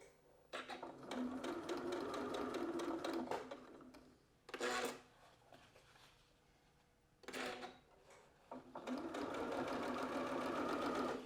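A sewing machine stitches a seam toward a corner in fast rattling bursts, pausing briefly between runs, close and fairly quiet.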